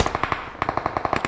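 Rapid automatic gunfire from a video game weapon in a squad battle royale match: two quick bursts of close, punchy shots separated by a brief pause.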